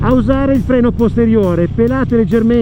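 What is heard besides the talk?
None of the usual background noises is heard.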